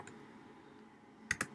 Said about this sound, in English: I'm going to type rebate